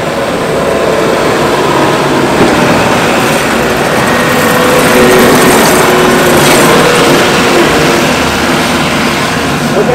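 Wacker Neuson large-frame skid steer and track loaders working in a demonstration at a trade show, with a steady, loud, continuous engine drone and mechanical clatter throughout, no talk.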